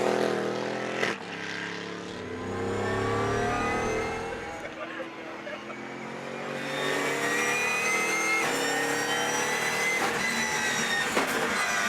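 An Alpina B6 GT3 racing car weighing 1350 kilos circulates on Rockingham's infield circuit, its engine loud and close, rising in repeated revving sweeps through the gears with brief lifts between pulls.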